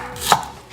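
A knife makes a single crisp stroke through ingredients on a board while thinly slicing them for a Khmer raw beef salad, a short close cut standing alone.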